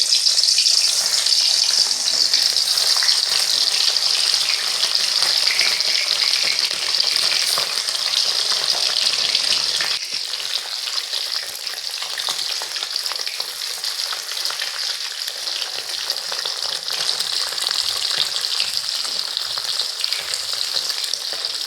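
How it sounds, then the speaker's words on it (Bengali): Steamed egg pieces frying in hot mustard oil, a steady loud crackling sizzle that runs unbroken throughout, dipping slightly partway through, with no talking. "এখন ভাপানো ডিমের পিসগুলো ভেজে নেব"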